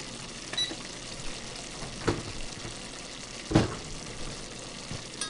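Sausage gravy bubbles softly in a cast iron skillet: a quiet, steady simmer with a couple of small, sharp pops.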